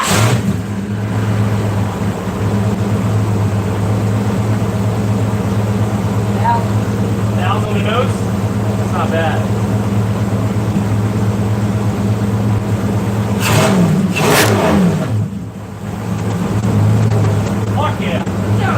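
A 4.8 L LS engine idles with a loud, steady low rumble close by, then revs up in two sharp bursts before settling back to idle. Someone speaks briefly over it.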